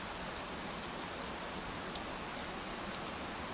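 Steady, dense rainfall hisses evenly throughout, a constant wash of drops on surfaces with no pauses or breaks.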